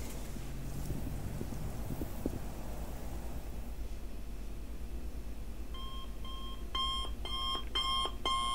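An alarm clock starts beeping after a stretch of low rumbling, its bursts of bright beeps repeating in rapid groups and growing denser toward the end.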